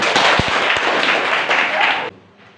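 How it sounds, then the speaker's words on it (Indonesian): A classroom of students claps together in a dense burst of applause lasting about two seconds, then stops abruptly, leaving a quiet room. "Baik, tepuk tangan."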